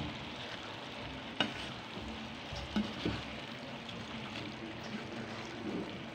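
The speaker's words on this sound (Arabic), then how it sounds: "تقلبيها بقى كلها كده مع بعضها" Shawarma sizzles steadily in a hot frying pan while it is stirred, a continuous close hiss of frying with a few faint scrapes and clinks of a utensil, no talk.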